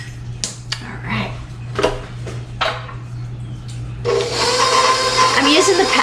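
A stand mixer's paddle beats butter, confectioner sugar, Crisco and marshmallow fluff, with a steady whirring churn taking over strongly in the last two seconds after scattered clinks and a talking voice earlier.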